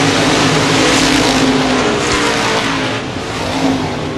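Modified race cars roar around Baer Field Speedway during the Gold Cup 50, a loud continuous engine drone with revving swells as the pack passes close, easing slightly toward the end.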